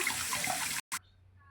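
Boiled eggs rinsed under cool running water: a steady broadband splash of tap water for most of the moment, cutting off abruptly, a brief burst, then near quiet with faint residual drips.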